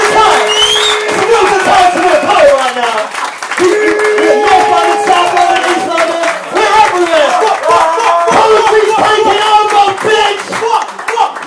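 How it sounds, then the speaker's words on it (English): A crowd at a London spoken word night claps loudly and steadily, with cheers, whoops and raised voices mixed in close to the listener. "So let's have a bit of applause for"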